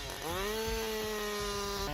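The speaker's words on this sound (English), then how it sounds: "Let's start with a chainsaw." A chainsaw with a 62cc two-stroke engine driving a 50 cm bar revs up quickly to a high, steady whining drone, sustained loud and close with a slight pitch dip near the end.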